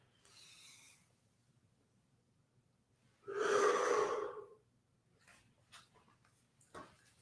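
Deep breaths drawn in and pushed out during a cat-cow back stretch in an exercise class: a soft breath early on, then one loud, close, drawn-out exhale, followed by a few faint, brief breathy puffs.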